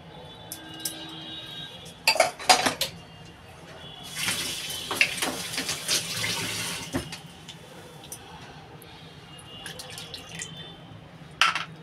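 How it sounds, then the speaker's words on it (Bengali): Ground mustard is stirred into water and strained in a home kitchen. Water swishes and pours for a few seconds, with light clinks of utensils and a bowl around it, at moderate loudness. "এই সর্ষেটা এই যে জলে গুলে ছেঁকে নেব"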